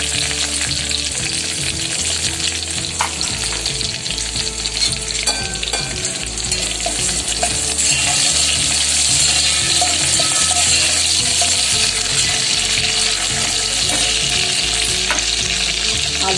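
Cumin, curry leaves and green chillies frying in oil in a pan for a fasting potato bhaji, a loud continuous crackling sizzle with stirring, close and unbroken throughout.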